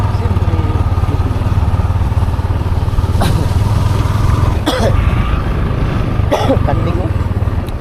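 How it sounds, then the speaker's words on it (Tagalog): Several sharp, harsh coughs from a person, coming in a few separate bursts over a steady motorcycle-like engine drone that runs throughout. "Grabe ubo ko"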